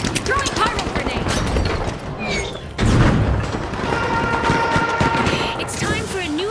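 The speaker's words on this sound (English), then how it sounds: "Throwing pyro grenade!" A pyro grenade explodes in the arena shooter The Finals, a loud booming burst with crashing debris and gunfire-like crackle amid busy game noise, with voices present.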